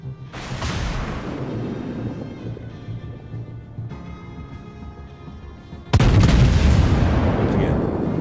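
Battleship main turrets fire in World of Warships aboard the German Bismarck, a deep booming salvo at the start rumbling away, followed by a second, louder broadside that roars on steadily.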